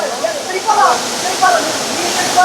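Water rushing at Kallathigiri falls makes a steady, bright hiss close by, with people talking intermittently over the flow.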